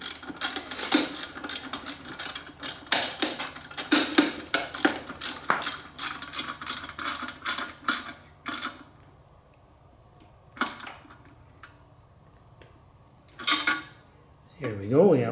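A 10mm socket ratchet clicks rapidly in bursts while tightening carburetor bolts on a Kawasaki Z1A motorcycle, with metallic rattles and a few scattered clicks near the end.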